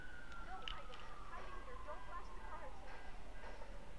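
A faint emergency-vehicle siren in the video game Beyond: Two Souls wails with a slowly falling tone under a steady background of game ambience.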